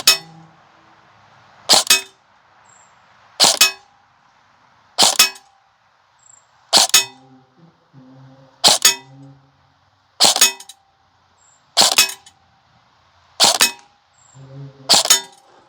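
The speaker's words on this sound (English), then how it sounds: "sounded like they all hit the target." Airsoft BBs from a Krytac LVOA-C electric rifle strike a target about 50 feet away, giving nine sharp metallic clangs spaced evenly about every second and a half, each crisp and loud against a quiet background.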